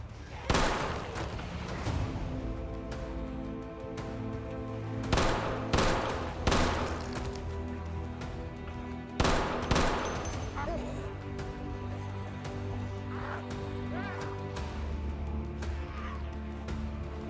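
Pistol gunshots in the zombie survival game Project Zomboid, several sharp, loud single cracks spaced a few seconds apart over a steady low background, with some gaps between shots.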